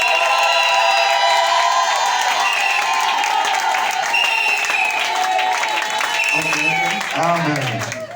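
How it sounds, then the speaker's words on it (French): A church congregation claps and cheers loudly, with whoops and shouts rising over dense applause, then a voice begins speaking as the noise fades toward the end. "Je voudrais entendre des acclamations."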